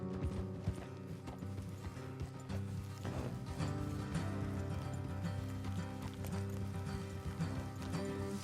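Steady rhythmic hoofbeats of horses clip-clopping along in Red Dead Redemption 2, set against a dense, constant background of mechanical and ambient game sound.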